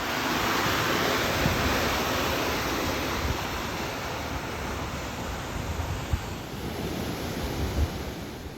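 Floodwater rushes fast through a drain running beneath a golf fairway out to a creek after a storm, a steady loud roar of broadband noise with no pauses, heard close and alone.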